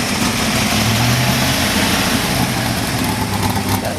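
A 1968 Chevrolet Camaro V8 with a raspy cam, Hooker super comp headers and electronic ignition idles loudly up close, a steady, rough, lumpy rumble with no talk over it.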